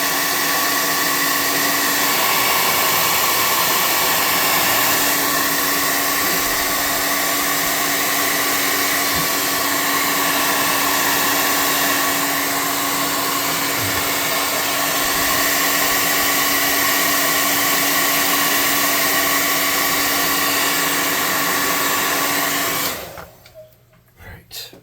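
A hair dryer blows steadily on wet paint on a handmade horror horse figure for a tabletop role-playing game, a constant loud whirring drone that runs without a break, then cuts off abruptly near the end.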